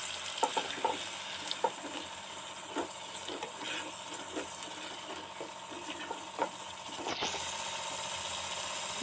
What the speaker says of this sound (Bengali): জলের মধ্যে যে মশলাগুলো মিক্সড করলাম সেইটাই এর মধ্যে ছেড়ে দিচ্ছি